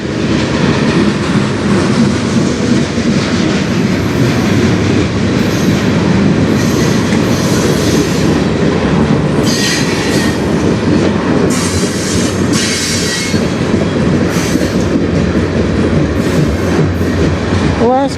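Freight train with old Boston and Maine cars rolling past up close, a steady loud rumble and clatter of wheels throughout, with occasional squeals and a brief high screech near the end.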